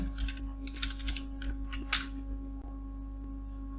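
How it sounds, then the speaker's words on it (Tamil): Computer keyboard keys tapped in a Photoshop session, a sparse run of light clicks spread over a few seconds against a steady low hum, with no talk. "இங்கே டைப் பண்ணுங்கள் கூகுளில்"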